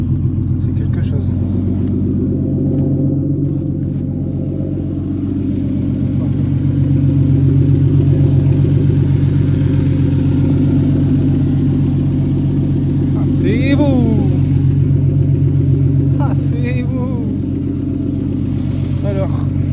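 A car engine, its air-fuel ratio not yet tuned, revs loud and close with a deep steady rumble that swells and holds, while people talk over it.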